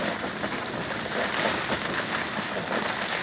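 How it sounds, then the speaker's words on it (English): Light rain falls outdoors near Clearwater Beach as a soft, continuous hiss of drops, steady and fairly close, with no talking. "It's raining again right now a little bit."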